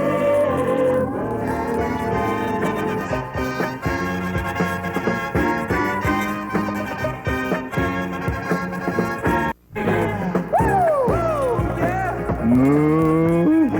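A voice imitates a cow mooing over loud, continuous music, with long, drawn-out lowing sounds rising and falling near the end.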